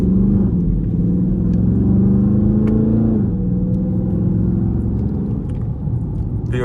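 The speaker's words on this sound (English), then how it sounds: "POV drive in the Charger" Engine of a 2019 Dodge Charger R/T in track mode rumbling steadily from inside the car during a drive, a loud continuous low drone with a slight rise and dip in pitch, no talking.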